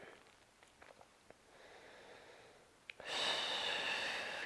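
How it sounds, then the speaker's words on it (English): Quiet breathing through a fascial release exercise, faint soft breaths and small sniffs at first, then a fuller, louder close exhale near the end. "2 more breaths."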